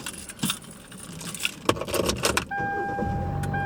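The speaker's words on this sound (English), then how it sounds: "let me turn the car on" A car's keys jangle and rattle near the ignition before the engine catches and settles into a steady hum, with a faint tonal chime running over it.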